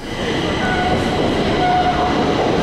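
A Stockholm metro train runs through Stadion station with a steady loud rumble and rolling rail noise throughout, plus faint squealing tones and light background voices.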